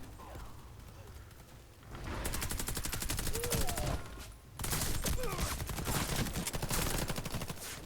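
Sustained automatic gunfire in the online shooter Warface, dense rapid bursts that drop out briefly mid-clip before resuming just as loud, with faint movement sounds between volleys.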